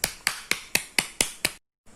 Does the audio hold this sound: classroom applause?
yes